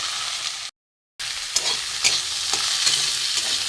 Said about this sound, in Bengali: পেঁয়াজ টমেটো রসুন আলুটা এর সাথে ভেজে নেবো।